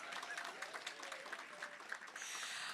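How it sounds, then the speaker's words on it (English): Crowd at a tourism summit applauding the governor, a quiet sustained patter of many hands with voices faintly mixed in. "Give the governor a bigger clap then."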